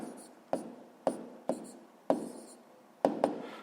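Pen strokes writing numbers by hand on paper for a sixth-grade maths exercise, six or seven short distinct taps and scratches at uneven intervals, close and quiet.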